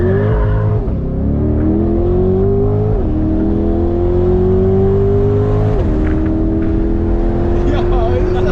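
A Chevrolet Corvette C8R engine accelerating hard on a track, loud sustained revving that climbs through gears with brief drops at each shift, heard from inside the car with talk over it.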